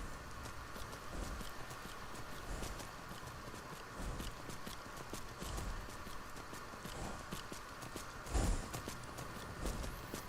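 A horse's hooves clop steadily as it climbs a mountain in The Elder Scrolls V: Skyrim, a continuous run of crunchy footfalls on rough ground under a windy ambient bed, with one louder thud near the end.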